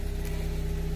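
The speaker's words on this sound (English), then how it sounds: "Sorry if you hear the car on in the background." Steady idling car engine hums nearby beside a dumpster, a constant low drone with a fast regular throb and no voices.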